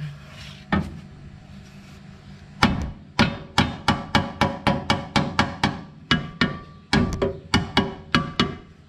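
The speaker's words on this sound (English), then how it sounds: "Then use a mallet." A mallet drives the front lower control arm of a 2008 Mitsubishi Lancer into place, with a few spaced blows and then a rapid series of about twenty sharp, close knocks.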